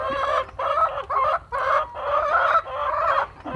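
Laying hens clucking close by in a steady run of repeated calls with short pauses, one bird partly crowing.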